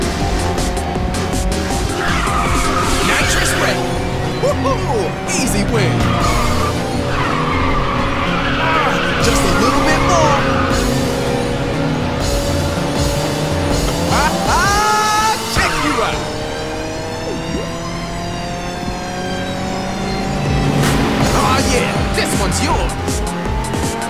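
Race cars roar through a Ridge Racer 6 session on Xbox Series X, engines whining continuously with repeated tire squeals as they drift and skid and rising pitch sweeps under nitrous boost, loud and close, with voices talking over the action.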